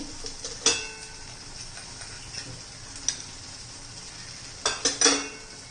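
Prawn masala with turmeric, coriander powder and homemade fish masala being stirred in oil, a soft sizzle under sharp clinks of a spoon against the pan, a few scattered scrapes and taps.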